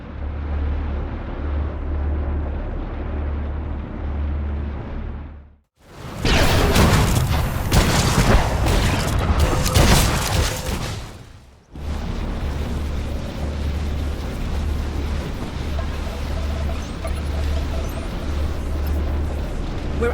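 Starship weapons fire and explosions erupt in a SWTOR video game cutscene, a loud roaring burst of blasts lasting several seconds, set between stretches of low droning ship hum.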